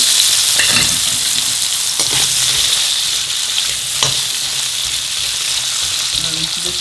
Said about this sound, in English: I've been frying the potatoes for the last 3 minutes on a high flame